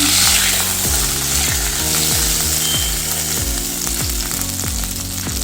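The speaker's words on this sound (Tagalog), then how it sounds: "So the same oil in the pan I'm using for my other ingredients to fry." Hot oil sizzles loudly in a pan just after fish has been fried, a continuous close crackle and hiss broken by periodic low scraping knocks, with no talking.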